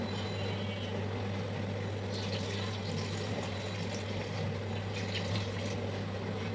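Water poured into a pan of hilsa fish curry with pumpkin lentil dumplings and eggplant, a steady continuous wash of liquid over a low kitchen hum, moderately loud and unbroken, with a small clatter at the very end.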